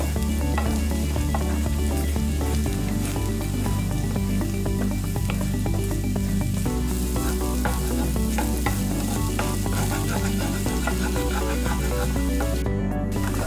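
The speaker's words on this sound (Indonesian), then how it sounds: "aduk telur hingga matang." Steady sizzling of egg frying in a pan, with scraping and stirring sounds running continuously throughout, close and fairly loud.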